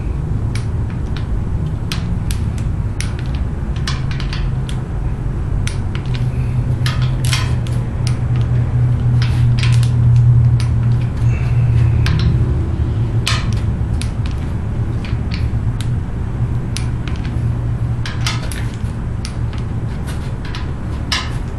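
A torque wrench tightens the intake manifold bolts on a Buick 455 engine during a rebuild, giving repeated sharp metallic clicks and ratcheting taps close by over a constant low mechanical hum.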